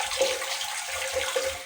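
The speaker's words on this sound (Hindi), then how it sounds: "अब हम पानी खोलेंगे, चेक करेंगे इसे" Water rushes into an American commode toilet cistern through a newly installed ball float valve, a steady close hiss and splash with faint gurgles, no talking.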